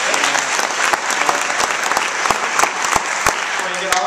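A faculty audience at an opening-day association meeting claps steadily, a dense wash of hands with sharper individual claps popping out near and at irregular moments throughout.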